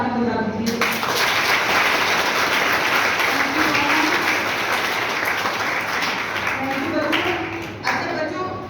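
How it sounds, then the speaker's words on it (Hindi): Schoolchildren clap for themselves at a police awareness session held at their school, a loud, sustained burst of many small hands that holds steady before tapering near the end, with voices mixed in. "तो मैं चाहूँगी कि आप सबसे पहले अपने लिए तालियां बजा दीजिए।"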